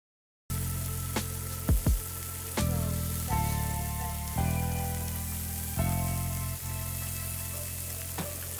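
Shrimp sizzle in a skillet for a garlic shrimp scampi, a loud steady fry broken by a few sharp clinks and bursts as pieces are set down.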